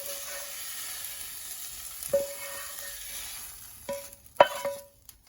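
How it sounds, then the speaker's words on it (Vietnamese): Tomato and egg omelette frying in a pan, a low steady sizzle with a few sharp clinks of a utensil against the pan toward the end, close and with no talking. "Trứng mà chiên omelette kiểu này rất là ngon"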